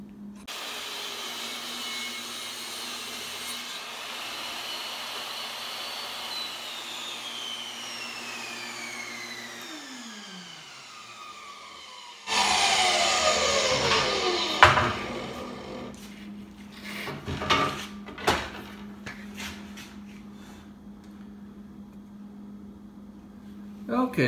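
A power saw cutting a 10-degree bevel taper into a wooden picture frame: a sustained whining motor hum drops away, then a louder burst of blade-on-wood cutting follows with sharp irregular peaks and a steady hum beneath.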